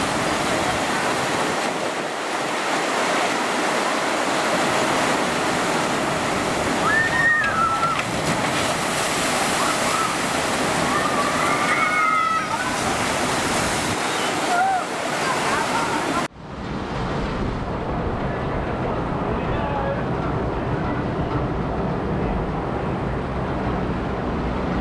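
Water rushes and splashes loudly around a boat on the Water Fun Factory ride at Pleasurewood Hills, heavy with wind buffeting against the microphone, with voices and shouts of riders mixed in before the sound abruptly cuts to a muffled wash.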